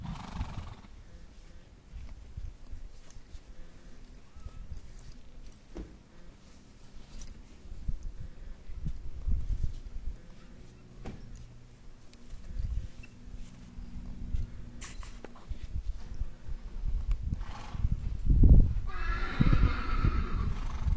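A horse neighs and whinnies loudly near the end, after a long stretch of faint shuffling and hoof movement on the ground.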